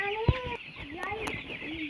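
Chickens on a baby chicken farm cluck and peep close by in a quick, uneven series of short calls, with a soft thump early on over light background noise.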